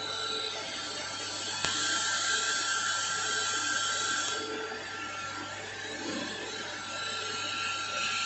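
A lathe bores a 10 mm hole in a small spring holder part, giving a steady, loud broadband machining whine that runs continuously, with a brief sharp tick early on and a slight dip in intensity midway.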